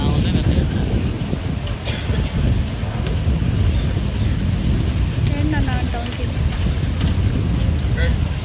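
Wind buffets the microphone on Bluewater Island in Dubai at night, a loud, constant low rumble and roar that fills the whole stretch and masks the quieter surroundings.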